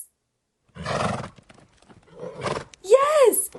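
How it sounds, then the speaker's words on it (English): A farm horse lets out one loud, close whinny that rises and then falls in pitch, coming after a couple of shorter, rougher bursts of sound. "Yes, a horse."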